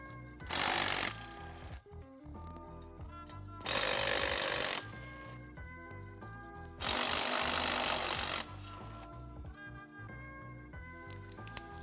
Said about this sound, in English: We'll start by removing the 10 millimeter bolts.